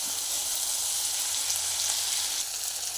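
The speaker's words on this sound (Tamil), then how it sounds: "நான் எடுத்து வச்சுருந்த வெங்காயம், மிளகாலாம் சேர்த்துட்டேன்." Onions and chillies sizzle steadily in a pan for a Tamil drumstick-and-garlic vatha kuzhambu, a dense, even hiss with no voices and no break across the whole stretch.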